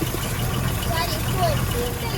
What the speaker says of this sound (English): So I'm just gonna let it sit there and idle.